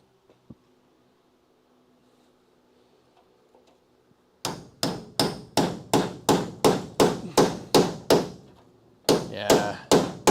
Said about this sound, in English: Just tap it in. Just tap it in. Just give it a little tappy. Tap, tap, tap, taparoo.